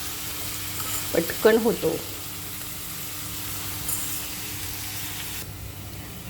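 A whole large onion frying with salt in a pan gives a soft, steady sizzle running throughout, faint and even, with a brief spoken phrase near the start.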